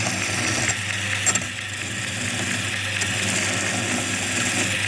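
A homemade compact horizontal belt sander, powered by a scroll saw motor, runs with a steady motor hum and sanding noise throughout, close and continuous with only minor variations.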